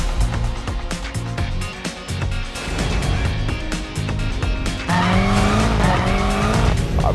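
A new BMW M5 driven hard around the Nürburgring, its engine roaring steadily from inside with tire squeal, gear shifts and rising revs near the end.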